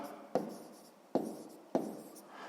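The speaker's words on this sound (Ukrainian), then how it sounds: "Давайте тут запишемо масштаб" A pen writes a scale on paper in three short scratchy strokes, each starting with a sharp tap and fading out, quiet and close with no voices.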